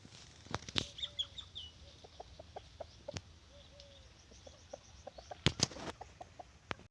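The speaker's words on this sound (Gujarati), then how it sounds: "અને આ મોટો કૂકડો" Big five-year-old farmyard rooster giving short clucks and soft calls among poultry, with a few sharp bursts of wing flapping, fairly faint against an outdoor background.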